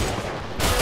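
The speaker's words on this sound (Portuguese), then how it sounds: "Ai, ai, eu tô levando tiro aqui, eu não sei de onde." Gunfire rattles in the video game Line of Sight as a dense, loud burst of shots that swells again near the end of the moment.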